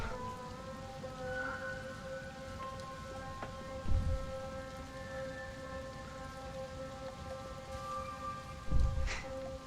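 Steady rain pours in a tabletop fantasy game scene, a continuous hiss of falling water with a faint tonal hum beneath and two brief low thumps breaking through.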